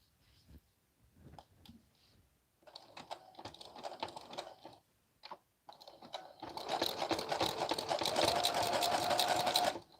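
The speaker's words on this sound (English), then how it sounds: "So right here, I'm just tacking down the waistband." A sewing machine tacks down a garment waistband in short stop-start bursts of rapid needle clatter, ending in a longer continuous run with a rising motor whine, all close and without talk.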